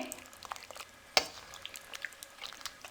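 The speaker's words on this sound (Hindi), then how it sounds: "हल्के हाथों से हम इनको मिक्स करेंगे।" Dahi bhalle, soft lentil dumplings, are folded gently into yogurt, giving quiet wet squelches and a few faint clicks of a spoon against the bowl. The sounds are soft and close, with no talking.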